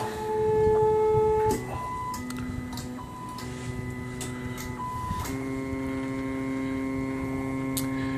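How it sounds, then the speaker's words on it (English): A ParabolicDelta 3D printer prototype on a wood base homing itself, stepper motors whining in steady tones that shift pitch several times, with faint clicks over a constant electrical hum, close by. "And the printer will basically home itself."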